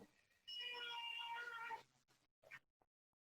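A house cat meows during an online video meeting, one long loud harmonic meow followed by two or three short fainter chirps, then quiet, with no talking.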